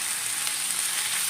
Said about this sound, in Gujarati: બધું મિક્સ કરી દઈએ